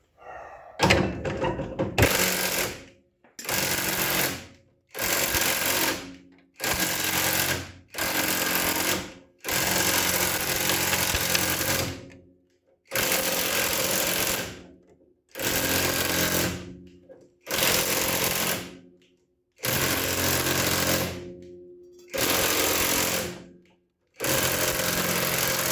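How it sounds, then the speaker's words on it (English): Rusty metal part being hammered into place on a car project, repeated heavy metallic blows in steady bursts with short pauses between, loud and close, no talking. "Hammer that down."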